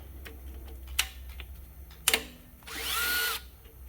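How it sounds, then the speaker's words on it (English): Power tool removing a nut near the battery terminal of a Toyota Camry, a couple of sharp clicks and taps followed by a brief close whir under a second long. "And I'm going to take the nut off."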